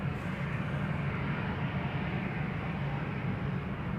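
An Air Baltic jet spools up its engines for takeoff at Amsterdam Schiphol Airport, a loud, continuous, rumbling roar holding steady at close range without any talk.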